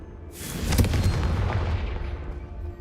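A Confringo fire spell from Hogwarts Legacy bursts with a loud, booming blast, then a sustained roaring, crackling rush that slowly fades across the moment.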